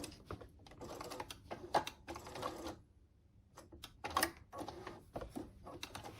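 Home sewing machine stitching a quarter-inch seam on a quilt border, running in short quiet bursts of rapid needle clatter separated by brief pauses.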